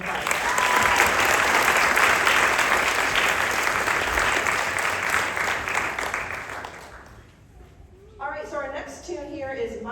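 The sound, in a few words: applause for middle school jazz ensemble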